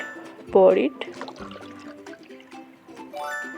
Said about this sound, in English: Let's pour our juice in it. Sorry, it's our smoothie. Let's pour it